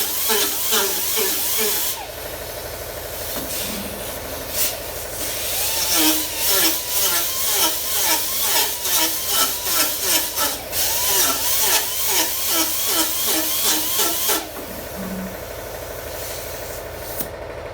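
Grinder working over a Fox Body car's front nose body panel, a loud steady hissing, rasping whine with rhythmic pulsing passes and brief pauses; some talk faintly underneath.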